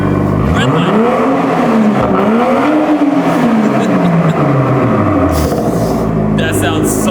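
A Toyota Supra with a new exhaust revs hard toward redline several times, the engine note sweeping up and falling back in loud, close blips under a steady background rumble, with voices and other noise near the end.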